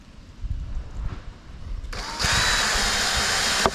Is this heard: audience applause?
no